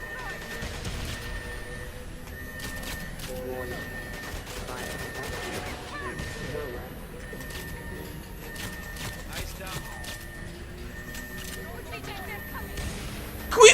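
Gunfire in GoldenEye 007: Reloaded, scattered sharp shots and crashes in a game firefight at moderate volume, with someone talking throughout and a louder bang at the end.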